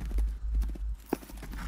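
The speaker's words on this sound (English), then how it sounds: "It's making me feel like I'm actually on a horse." Horse hooves clip-clopping in the Tales of Rein Ravine horse game during a show jumping session, a steady run of soft, near footfalls with low rumble beneath and one sharper knock near the end.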